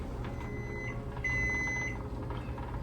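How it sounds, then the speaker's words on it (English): Faint electronic beeps from a kitchen timer sound in two short bursts over a low background hum, while jars boil for pear preserves. "you probably heard my timer"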